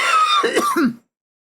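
A single close cough, two rough bursts, then silence.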